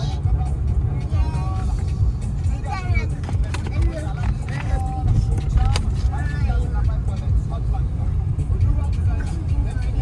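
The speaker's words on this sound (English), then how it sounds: "So we are going into the ferry now with our car." A car rolls onto a ferry over the boarding ramp, with steady engine and road rumble. Children and adults chatter over it throughout, amid a busy loading-area hubbub of other vehicles.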